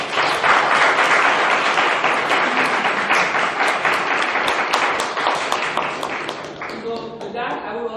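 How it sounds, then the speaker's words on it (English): A sustained round of audience applause at a Toastmasters-style club meeting, dense and steady for several seconds before thinning toward the end, with some voices mixed in. "Let's give all the auxiliary role players a big round of applause."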